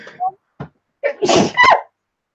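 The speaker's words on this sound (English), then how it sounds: "Oh, I'm gonna sneeze." A single loud sneeze bursts out after a few short breathy sounds, close to the listener, with a quick intake before the explosive release.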